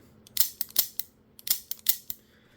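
A Canik P120 pistol's double-action trigger gives several sharp mechanical clicks in irregular clusters, close and crisp, with short gaps of quiet between them and no voices.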